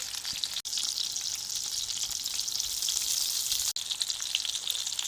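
Chicken seekh kebabs fry in a pan with a steady, dense sizzle and crackle throughout, close and fairly loud, broken by two abrupt brief dropouts.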